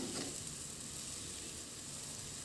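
Sambal goreng frying in a pan, a steady close hiss and sizzle throughout with a light scrape of stirring near the start.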